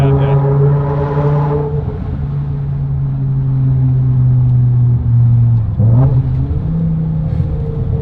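A modified BMW M5 V10 Touring engine drones steadily from inside the car, with a brief dip and surge near the end like a downshift.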